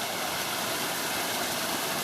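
Creek water flowing steadily in bushland at Kierans Creek near Dundundra Falls, Terrey Hills; a continuous broad rushing wash, close and even, with no voices.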